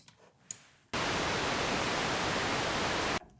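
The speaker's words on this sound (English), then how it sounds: "And here's our noise module." The noise module of a Cherry Audio Mercury-6 synthesizer gives a steady, loud broadband hiss that switches on abruptly and cuts off after about two seconds.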